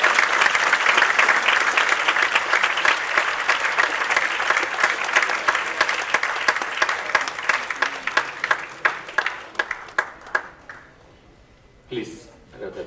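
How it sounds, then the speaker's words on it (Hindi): Sustained applause from a live concert audience at a fundraising show, dense and loud for about ten seconds before thinning into scattered claps and fading, with a brief crowd murmur near the end. "तालियां बजती रहनी चाहिए"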